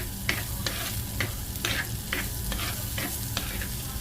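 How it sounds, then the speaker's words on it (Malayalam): Shallots sautéing in oil in a pan for an onion theeyal curry: a steady, quiet sizzle broken by regular scraping strokes of a spoon stirring about twice a second. "നമുക്ക് ചെറിയ ഉള്ളി അതുപോലെ തന്നെ വഴറ്റിയെടുക്കാം"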